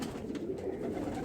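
Soft pigeon cooing from a white high flyer pigeon recovered from a viral illness, low and steady throughout over a faint room background.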